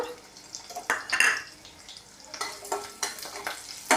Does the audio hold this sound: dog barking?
no